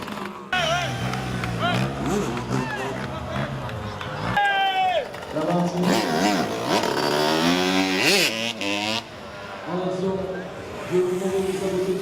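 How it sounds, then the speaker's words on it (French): Scooters and motocross-style bikes revving during wheelie stunts at an evening bike gathering, with engines rising and falling in pitch in repeated revving bursts, heard amid crowd noise and people talking. "En scooter ou en moto type cross, une roue suffit pour faire le show."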